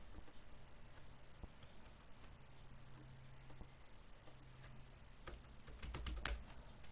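Keys clatter on a computer keyboard in a steady run of soft, close clicks, a few sharper taps bunching toward the end over a low background hum.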